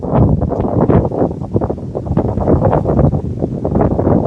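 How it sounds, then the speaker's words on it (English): Strong outdoor wind near a river in Quebec City buffeting the microphone, a loud, continuous rumbling roar with gusty surges throughout. "This wind is getting stronger by the minute."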